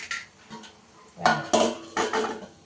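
Spatula or spoon scraping and clinking in a pan while drumstick leaves and small tomato greens are stir-fried with grated coconut, a few separate bursts of metallic stirring with short pauses between, close by, no talking.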